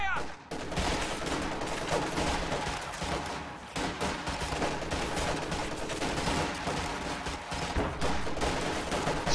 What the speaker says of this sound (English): MG34 is firing.